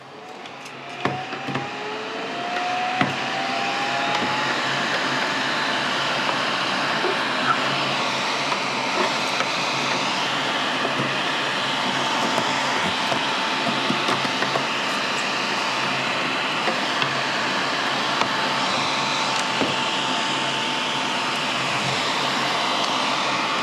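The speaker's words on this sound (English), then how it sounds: "I'm gonna go ahead and use this vacuum and clean up some of this." A vacuum cleaner runs steadily beside a VHS tape mold cleaner machine, giving a continuous loud whirring hiss with a faint rising tone early on and small clicks scattered through, with no talking.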